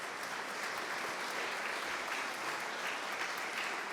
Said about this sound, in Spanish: quisiera yo pedir un aplauso